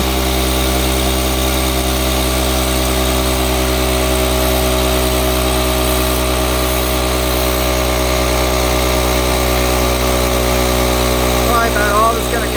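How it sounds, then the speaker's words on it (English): An air compressor for pneumatic tools runs steadily for the whole stretch, a loud constant motor drone with a strong low hum and no pauses. "kick the compressor on. I'm going to turn it on and let it run, let it blow that air out"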